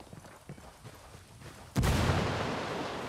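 A frag grenade detonates in the tactical shooter Ghost Recon Wildlands: after quieter ambient game noise, one sudden loud, booming blast hits and rolls on as a sustained rumble.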